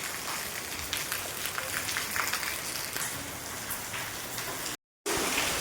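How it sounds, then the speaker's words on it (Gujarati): Steady rain falling outdoors during a trip near Jamjodhpur, a dense even hiss of drops on surfaces throughout with a brief dropout near the end. "હવે આપણે વરસાદ ચાલુ જ છે"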